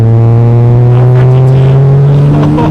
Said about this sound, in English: I can't believe that we're driving an RX-7. This has like 500 horsepower.